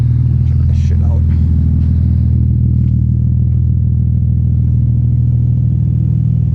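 An Infiniti G35 sedan, fitted with a hydraulic handbrake and dual calipers and set with heavy camber, drives along with a loud, steady low engine rumble close by, and a voice is briefly heard early on.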